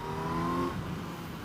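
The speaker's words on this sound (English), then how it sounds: "if you're not familiar with the Z900, this is an inline 4-cylinder" Kawasaki Z900 inline four-cylinder motorcycle of nearly 950 cc, its engine holding a steady mid-pitched hum that eases off partway through, fairly faint and brief.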